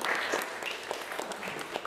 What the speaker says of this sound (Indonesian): Bapak, kasih tepuk tangan untuk kita semuanya.